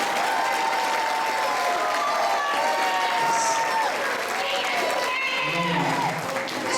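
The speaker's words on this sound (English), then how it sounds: "Let's give one more round of applause for the symphonic band, please." A concert audience applauds the symphonic band with a sustained wash of clapping at an even level, and a few voices call out over it.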